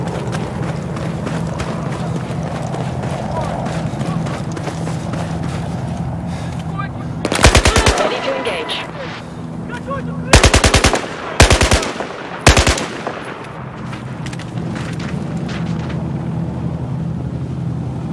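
Several bursts of rapid automatic machine-gun fire from the video game Battlefield 4, loud and close, breaking over a constant bed of in-game ambience and rumble.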